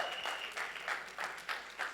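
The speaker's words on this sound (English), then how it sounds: "she deserves a big round of applause." Audience at a song launch event claps in a quiet, distant round of applause, with soft rhythmic bursts repeating throughout.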